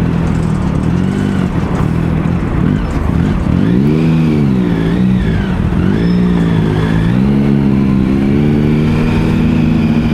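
Motorcycle engine drones loud and close while riding, a steady mid-pitched hum that rises and falls with throttle changes, mixed with constant wind rush, and no talking.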